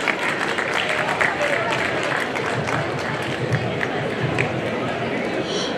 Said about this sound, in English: Let's give a big round of applause for all the graduates.